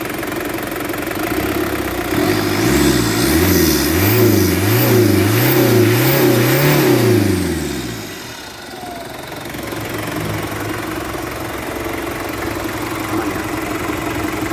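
Ford Ranger 2.9 TDI turbo diesel with a variable-geometry turbo, revved repeatedly in loud rising and falling pulses for several seconds, then dropping back to a steady idle.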